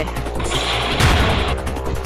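An explosion in a video game shatters a TV screen, heard as a loud burst of crackling blasts and crashing debris that swells midway through and rumbles on under continuous game noise.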